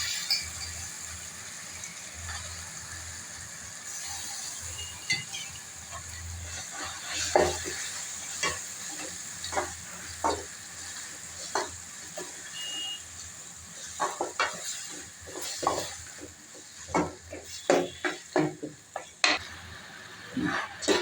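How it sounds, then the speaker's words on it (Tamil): A quarter kilo of washed chicken goes into a pan of sautéed onions and tomatoes for a Tamil chicken kulambu, with faint continuous sizzling, soft stirring and scattered scrapes and clinks of a utensil against the pan. "சிக்கனை இதில் போட்டுடலாம்."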